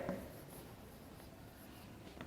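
Numbers being written on a board in a Class III maths lesson on multiplication, a soft continuous scratching of the marker or chalk, faint and close, with no talking.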